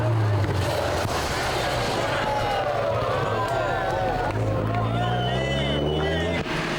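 A spectator crowd gathered at a corner on the Targa NZ 2003 rally murmurs steadily, and a loud, close car engine drones over the crowd throughout.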